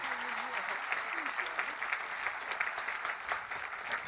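Audience applause at a Columbine remembrance ceremony, a steady wash of many hands clapping throughout, moderately distant, with a voice faintly over it.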